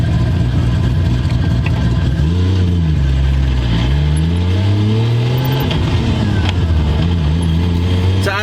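A rebuilt Toyota Supra engine runs steadily and loud, close by, its pitch sweeping up and down as the revs rise and fall over a constant rumble.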